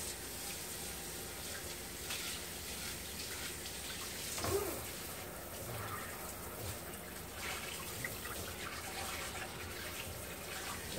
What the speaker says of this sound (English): Let me go ahead and rinse this off.